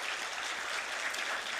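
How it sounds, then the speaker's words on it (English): An audience applauds two discussion leaders at the close of a session, a brief burst of steady, fairly soft clapping with no break. "Please give them a big round of applause."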